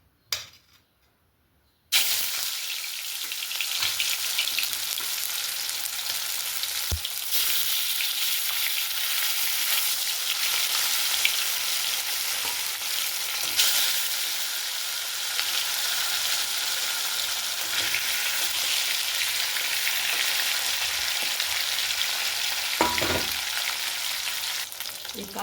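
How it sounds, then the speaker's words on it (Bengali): Katla fish pieces fry in hot oil in a kadai, a loud, continuous sizzle that starts abruptly after a short silence and holds steady throughout, with occasional small pops and no talking. "তো এখন এই যে কাতলা মাছের পিসগুলো ভেজে নেবো।"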